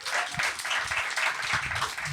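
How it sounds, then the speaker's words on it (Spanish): A live podcast audience claps in a brief, steady burst of applause from a room full of people, moderately loud and continuous with no talking over it. "Queremos saber, por aplausos, ¿quién aquí votó al menos una vez por Rafael Correa?"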